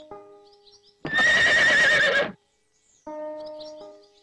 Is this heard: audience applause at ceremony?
no